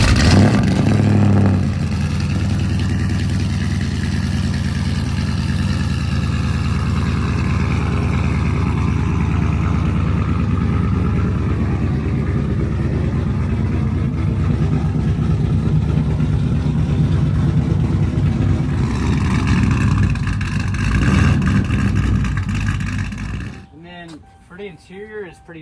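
Engine of a 2012 Ram pickup truck running and revving, a loud, continuous close rumble that holds for about twenty seconds and then cuts off, with people talking over it.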